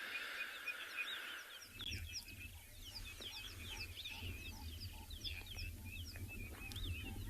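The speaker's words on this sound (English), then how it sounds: "If you listen as well, you can just hear all the birds." Many birds chirp and call together in a steady outdoor sunrise chorus at Tswalu in South Africa, with a rooster-like call briefly at the start, fairly faint and distant.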